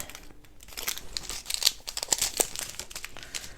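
A small plastic bag of diamond painting drills being folded: continuous close crinkling and rustling of thin plastic with a few sharper crackles, filling the whole stretch without any talking.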